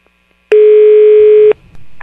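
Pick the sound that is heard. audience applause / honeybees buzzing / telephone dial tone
telephone dial tone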